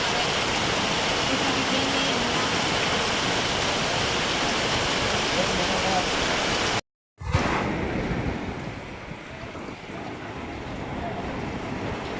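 Rushing floodwater roars steadily during Typhoon Dante in Brgy. Calayo, Nasugbu, Batangas, a loud continuous wash that briefly cuts out before resuming, with a voice speaking over it.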